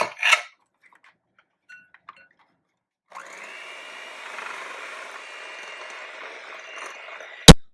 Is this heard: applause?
no